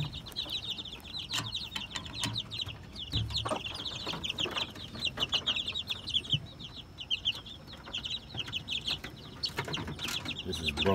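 Kelso and Sweater gamefowl chickens, a brother-and-sister breeding pair, cluck and chirp steadily and close by, with short bird calls repeating throughout and occasional knocks and scuffs underneath.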